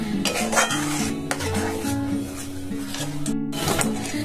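A spoon stirring milk for palm payesh in a metal pot, with steady scraping and clinking against the pot over a low simmer, close and continuous.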